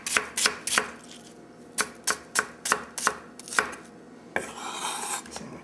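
A knife chops onions on a cutting board in a series of sharp, close thuds, about a dozen strikes in uneven bursts with short pauses, then a softer rustle near the end.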